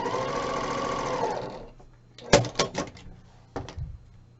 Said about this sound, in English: So I'm going to sew it corner to corner.